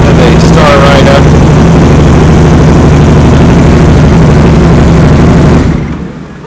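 A Spyder motorcycle engine runs loud and close, a steady low rumbling idle that holds throughout and then drops away sharply just before the end.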